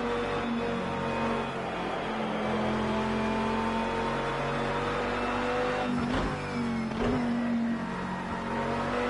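Lamborghini GT3 race car engine in Project Cars 2, droning steadily at high revs with strong harmonic whine, then two quick upshifts near the end with brief dips and pitch drops before revving on again.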